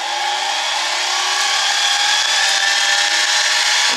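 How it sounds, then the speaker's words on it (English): A metal lathe runs steadily while a cutting tool faces a part lubricated with WD-40, producing a constant loud whirring machine tone with a faint rising whine, close and alone. "I'm going to turn the lathe on."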